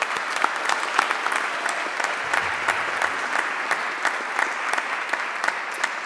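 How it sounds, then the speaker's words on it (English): An audience at a graduation ceremony applauds at a moderate level. Many individual claps stand out against the steady wash of clapping, which continues evenly throughout. "you owe yourselves a big round of applause"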